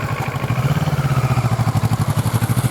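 Motorcycle engine on a learner's A2 training ride, running steadily with a pulsing, fairly loud rhythm throughout while the rider speeds up on a slope.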